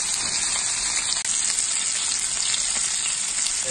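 Black pepper-crusted yellowfin tuna sears in a hot pan, a dense, bright, unbroken hiss of frying fat that stays loud and close throughout, with only a brief dip; no voices.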